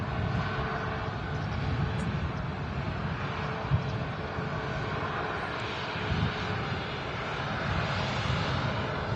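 A Ryanair Boeing 737 MAX passing at Manchester Airport, a steady broadband jet roar holding at moderate loudness throughout with light wind noise, no talk.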